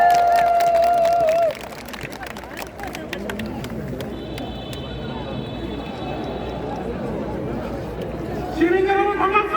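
A crowd at an outdoor political rally at the Kim Dae-jung Center plaza in Gwangju claps and cheers in a broad, sustained wash, with an amplified voice speaking over the start and end.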